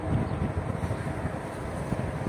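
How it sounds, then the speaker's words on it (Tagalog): Strong wind buffets the microphone in low, uneven gusts, a steady rumbling roar with no voices. "Malakas ang hangin."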